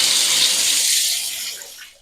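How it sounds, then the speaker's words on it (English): Cold water gushes steadily from a tap into a bathtub, a loud broadband splashing rush that tapers off near the end as the flow is shut off. "So I'm going to start running the cold water"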